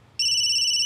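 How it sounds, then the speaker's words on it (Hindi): A phone rings loudly with an incoming video call, a sharp electronic ringtone tone cutting in abruptly and holding steady. "आई एम सॉरी कंचन, पर सब लोग वीडियो कॉल पे है, तुम भी उठा लो, एक सरप्राइज देना है।"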